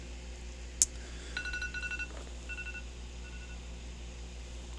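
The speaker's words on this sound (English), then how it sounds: "Now my phone alarm's going off." A phone alarm goes off with short, fairly faint electronic beeps in two clustered bursts over a quiet, low background hum, after a single sharp click.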